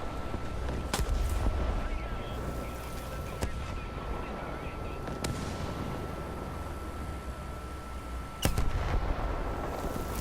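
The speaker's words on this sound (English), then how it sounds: "I'm going to sit here and ride out the artillery to cap" Distant artillery fire in War Thunder, a tank battle set in the Alps, booming a few times at irregular intervals over a steady rumbling battlefield background.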